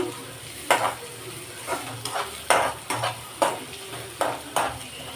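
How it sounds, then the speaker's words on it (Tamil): Onions fry in oil for bitter gourd kuzhambu, a soft background sizzle punctuated by about eight rhythmic scraping stirs of a spatula in the pan, close up with no speech. "வெங்காயம் வந்து நல்லாவே வணங்கியிருக்கு"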